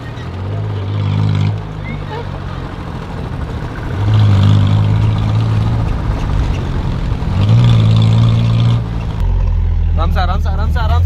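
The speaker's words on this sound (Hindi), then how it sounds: "दोनों इंजन एक साथ पावर में आएंगे।" A custom-built car fitted with two engines revs up in loud, sustained bursts, with strong low rumbling swells that rise and hold; people talk over the engine noise throughout.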